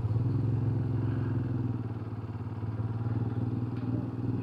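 A motorcycle on a mountain ride in Uttarakhand runs close by with a steady, pulsing engine throb for several seconds, with no talk.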